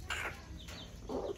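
Hybrid junglefowl rooster with two long tail feathers and a full neck ruff, kept in a pen, giving a few short clucks at close range in two brief bursts with quiet farmyard background between.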